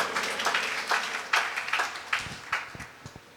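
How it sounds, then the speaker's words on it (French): Applause at a church service, with a congregation clapping in a steady rhythm of separate claps that grows sparser toward the end. "acclamons très fort pour les Seigneurs"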